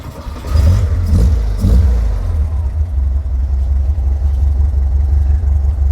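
A 1967 Volkswagen engine with an aftermarket exhaust revs hard with a deep, throaty rumble, a few sharp blips of throttle settling into a loud, steady low growl close by.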